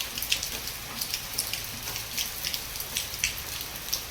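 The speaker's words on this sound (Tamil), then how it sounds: "கேரளாலெல்லாம் எப்படி ஊற்றுதோ மழை, அதே மாதிரி இங்கேயும் ஊற்றிட்டுருக்கு பாருங்கள்." Rain pours steadily in a heavy downpour, a constant dense hiss with scattered drops tapping and splashing on surfaces nearby, no voices.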